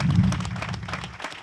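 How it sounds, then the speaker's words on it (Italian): A crowd at a political gathering in Italy breaks into brief applause, a short muffled burst of clapping over a low rumbling hum that thins out within a second and a half. "fa che un applauso"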